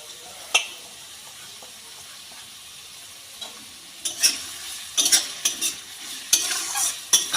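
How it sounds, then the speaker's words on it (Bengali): Chopped onion and green chilli sizzle and frying in a pan for an egg tadka, with scattered stirring scrapes and bursts of crackle growing busier toward the end; near and moderately loud, no talking. "এবার কেটে রাখা পেঁয়াজ আর লঙ্কা কুচিগুলো দিয়ে দিলাম।"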